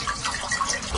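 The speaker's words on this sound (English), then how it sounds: "Okay, we're just gonna put some water in it." Water poured into a cooking pot in a home kitchen, a steady broadband rushing and splashing stream that fills the second without breaks, close and moderately loud, with no voices.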